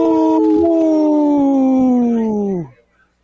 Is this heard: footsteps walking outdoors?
no